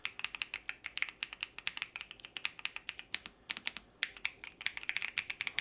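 Typing on a Keychron Q6 Max full-size keyboard fitted with Banana switches, a fast steady run of crisp, close keystrokes with brief pauses and bursts, heard alone without any talk.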